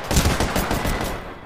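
Rapid gunfire from Apex Legends, a dense burst of shots rattling steadily for about a second and a half, loud and close with no talk.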